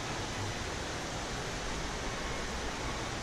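Mountain torrent rushing through the Carança gorge, a dense, unbroken roar of white water filling the whole scene at steady loudness, with no other sounds breaking through.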